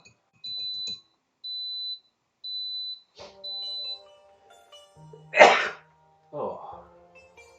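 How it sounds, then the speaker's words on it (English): A few quiet electronic beeps from a rice cooker, then a single loud, sharp sneeze bursts out, followed by a short throat-clearing or sniffing sound. "All of a sudden, I had to sneeze."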